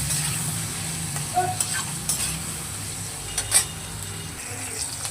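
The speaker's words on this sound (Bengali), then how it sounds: "এবার আমি আলু আর বেগুনটাকে একটু হালকা করে নেড়ে নেবো" Potato and eggplant fry in a pan with salt and turmeric while being stirred, a steady close sizzle broken by occasional spatula scrapes and light clinks, with no talking.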